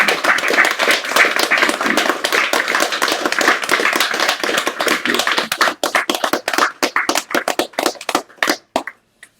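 An audience claps after a poetry reading, dense and steady at first, then thinning into scattered individual claps that fade out near the end, close and fairly loud.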